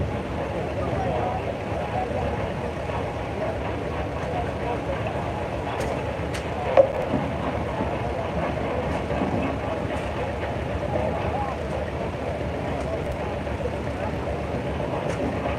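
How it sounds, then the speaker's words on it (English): A 1951 Massey Harris Pony tractor rolls past in a steam pageant tractor parade, its low engine rumble steady in the background while an announcer talks over it throughout. "Number 111 is a 1951 Massey Harris Pony, owned by Chuck Kester of Bristol,"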